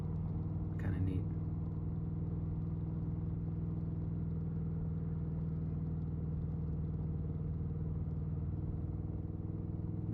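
A Harley motorcycle cruises in third gear across the Golden Gate Bridge, a steady low engine rumble with wind buffeting, a brief clatter early on, and a rider talking over it.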